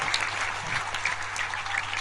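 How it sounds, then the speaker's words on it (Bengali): Sustained applause from an audience honoring students at an education event, a dense steady patter of many hands clapping throughout without pause. "তাদের জন্য একটা লাস্ট করতালি আমার কাছে এখান থেকে চাই"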